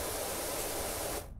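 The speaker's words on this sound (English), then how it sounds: "I'm just spraying it with water" A pressure washer sprays water onto a Mars rover in Power Wash Simulator, a loud, steady hiss of spray running close and continuous before cutting off near the end.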